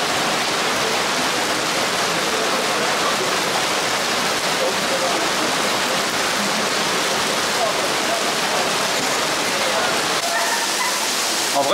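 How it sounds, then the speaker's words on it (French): Heavy rain pours down steadily for the whole stretch, a dense, loud, unbroken hiss with no pauses or change in intensity. "vu comme il pleut, c'est une dinguerie"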